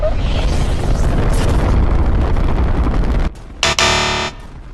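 A massive rocket launch in Fortnite erupts as a loud, sustained roaring blast that rumbles for about three seconds, then drops away into brief sharp game sound effects.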